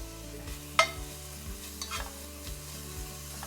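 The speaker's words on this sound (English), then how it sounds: "let's get the bacon in the pot" Bacon sizzles in a pot for a chicken gnocchi soup, a quiet steady fry under scattered clinks of a utensil against the pot, with no talking.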